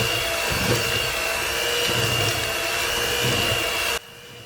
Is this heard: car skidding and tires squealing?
no